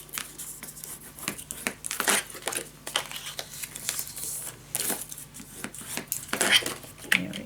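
Paper is folded and handled for a Spooky Season pop-up scrapbook mini album: close, continuous crinkling and rustling with sharper creases and brief scrapes throughout, and no one talking.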